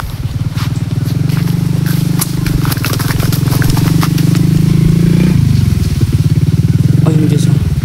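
A motorcycle engine chugs with a rapid, steady pulsing beat close by, shifting pitch as it passes, while a voice talks over it.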